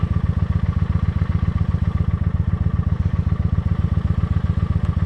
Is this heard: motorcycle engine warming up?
yes